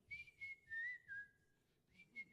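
A person whistles, mimicking a bird's song: short, clear, faint high notes in a broken phrase, with a steady held tone and brief gliding dips, then a final pair of chirps after a pause.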